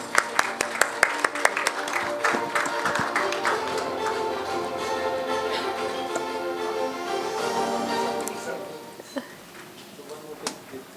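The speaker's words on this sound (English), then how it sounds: "Let's applaud everyone." Applause and scattered clapping from a conference awards audience fills the room, sharp individual claps at first blending into a steady wash before fading out.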